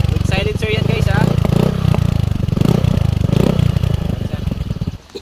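A Suzuki Burgman 125 scooter fitted with a tri-oval full carbon full-system muffler with silencer, idling and revving loudly up close in a throaty, pulsing drone before cutting off near the end, with talk mixed in.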